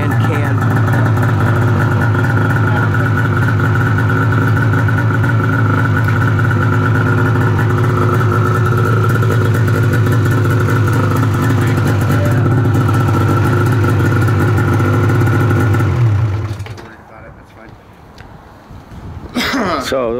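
A 2003 Blair Morgan 800 snowmobile with full Dynaport exhaust and can runs loud and close, a steady rough idle that cuts off abruptly near the end, with people talking over it.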